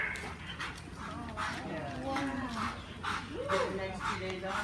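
A police dog barks in repeated loud bursts during K9 apprehension training with a decoy, heard outdoors under and between raised human voices.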